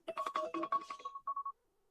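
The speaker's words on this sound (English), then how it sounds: "Feed the cat alarm." A phone alarm set as a reminder to feed the cat plays a short melodic ringtone of rapid beeping tones for about a second and a half, clear and close, then stops.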